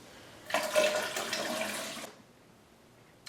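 Water pours into a circuit-board etching solution mix, one part etchant to three parts water, for etching a Damascus steel kitchen knife blade. It makes a steady, splashy gush lasting about a second and a half, close by, then stops abruptly.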